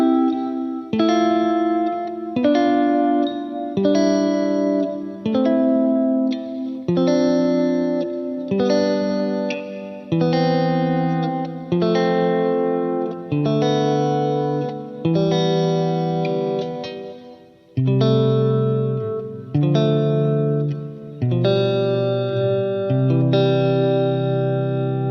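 An electric guitar with chorus and echo effects strums a slow chord sequence whose stacked voicings turn dissonant on the 6-5 chords. Each chord rings steadily, with no talking.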